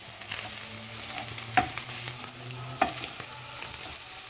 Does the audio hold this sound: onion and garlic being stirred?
yes